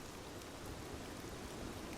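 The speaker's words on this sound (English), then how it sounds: "Rain." Steady, faint rain falling continuously as a soft, even hiss with no other sounds.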